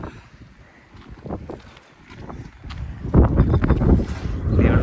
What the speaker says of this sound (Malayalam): പൊരിഞ്ഞ വെയിൽ അതിനൊത്ത കാറ്റ് ഭയങ്കര പൊടിക്കാറ്റുമാണ്